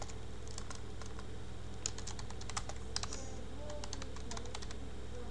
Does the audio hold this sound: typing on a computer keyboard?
yes